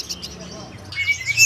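A caged songbird at an Indonesian bird market gives a few brief high chirps and tweets against a low murmur of background noise.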